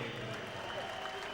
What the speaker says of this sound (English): Decent round of applause for his opponent, Valery Odin, who have made Froch work very